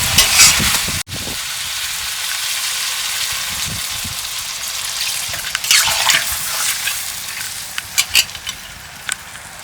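Water goes into a pan of sizzling fried fish masala, catfish and tengra fish cooked in a village kitchen. A loud frying crackle is broken by a sharp splash and bubbling hiss, then scattered pops and stirring.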